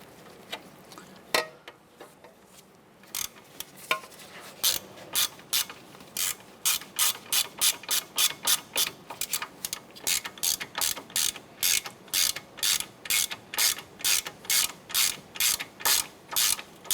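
A ratchet clicks rapidly in repeated bursts while snugging three bolts on the driver-side suspension knuckle of a 2008-2012 Honda Accord, sharp close metallic ticks with short pauses between strokes.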